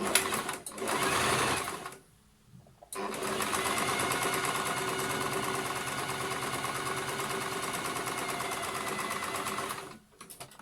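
A sewing machine runs a straight stitch on a small fabric keychain or coin purse, with a steady rapid mechanical whirr and chatter in two bursts separated by a short pause.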